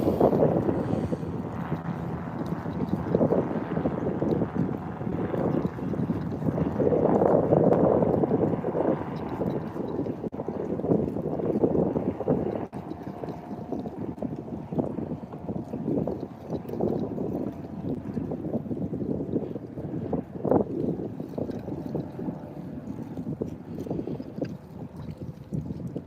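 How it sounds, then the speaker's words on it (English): Strong gusty wind buffets a fishing dock, a loud, continuous low rumble of air roaring against the microphone for the whole stretch, without voices. "that wind is cutting."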